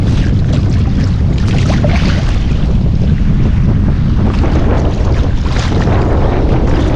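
Strong, sudden amihan wind buffets a small boat at sea, roaring and rumbling steadily into the microphone over splashing water, loud and unbroken with no talk.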